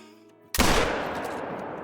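A single .270 hunting rifle shot in the hunting game Call of the Wild cracks loudly and sharply, then leaves a long rumbling tail that fades slowly.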